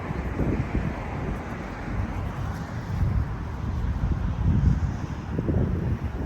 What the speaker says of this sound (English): nothing like a wee windy walk around Beijing when the weather is nice